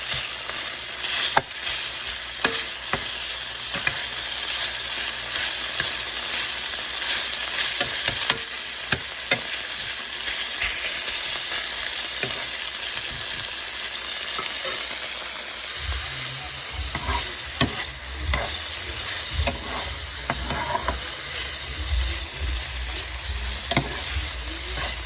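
Taco meat fries in a pan with a steady, bright sizzle throughout, punctuated by repeated scraping stirs and occasional clicks of the utensil against the pan.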